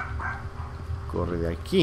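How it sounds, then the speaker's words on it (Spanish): Dogs bark in the video game Infra, a few short yips and barks near the end of the clip that come in under someone speaking Spanish, over a low steady background hum. "¿Por qué hay perros ladrando?"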